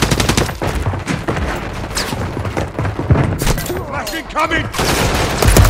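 Rapid bursts of automatic gunfire and heavy booms crackle nonstop in Call of Duty, loud and close, while a voice shouts over the shooting.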